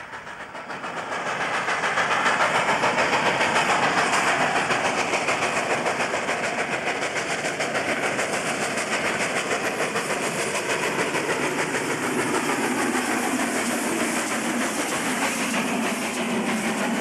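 A New South Wales steam locomotive hauls a Goulburn-bound goods train south of Bargo, giving a steady loud roar of chuffing and rolling wagons that swells in and holds throughout.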